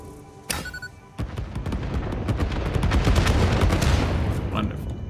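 Explosions and rapid bursts from fireworks set off in the video game Satisfactory, a dense, loud crackling barrage of sharp bangs that builds steadily and stays continuous throughout.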